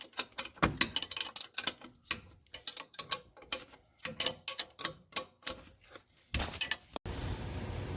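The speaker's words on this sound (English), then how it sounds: "I just do them with an open end wrench and try to use the box end as much as possible" An open-end wrench works on the turbo manifold bolts of a 12-valve Cummins diesel, making close, irregular metallic clicks and clinks in quick bursts, followed by a brief louder scrape and a low background hum at the end.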